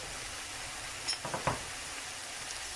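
Cumin powder and green chillies are stirred in a pan over a soft, steady sizzle, with a few brief utensil scrapes and clinks near the middle.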